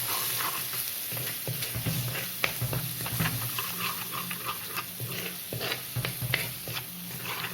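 Spices for a Kerala fish curry with kudampuli fry and sizzle in a pan while a spoon stirs and scrapes through them, a steady close crackle broken by irregular clinks and scrapes.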